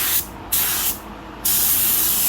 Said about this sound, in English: Then I'm just spraying air to dry it real quick.